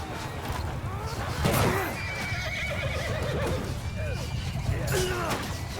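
Horses whinny repeatedly amid battle clatter in Mount & Blade II Bannerlord, with several high neighs rising over a busy background of hooves, thuds and swishes, fairly close and prominent.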